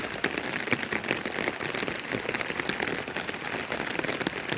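Steady rain falls on village rice paddies in a dense, even patter, with no voices and no break.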